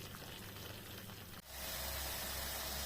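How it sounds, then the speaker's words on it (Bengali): Spice masala frying in oil in a pan, a steady close hiss and sizzle that jumps in loudness partway through, then holds as a dense, even crackling. "মশলাটা ভাজা হয়ে গেছে, তেল ছেড়ে গেছে"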